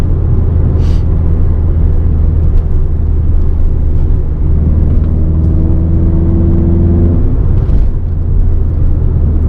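Renault Clio RS 200 fitted with a K-Tec induction kit, heard from inside while driving as a loud, steady low engine drone and rumble, with a smooth rising induction tone partway through.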